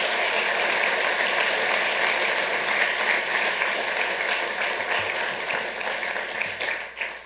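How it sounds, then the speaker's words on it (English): Steady, loud applause from the audience at a Santa Ana city council meeting, honoring city staff, with dense clapping that holds for several seconds and then tapers off. "Let's give them a big round of applause for that."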